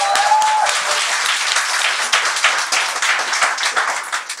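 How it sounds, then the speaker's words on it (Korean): A studio audience breaks into brisk, continuous clapping at a Korean political talk show taping, a close, loud burst of many hands that thins slightly toward the end. "박수!"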